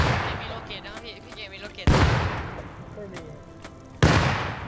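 Gunfire in the video game Rust aimed at a base wall: a continuous rattle of shots broken by two sharp, loud booming blasts that ring out and decay, close and dominant.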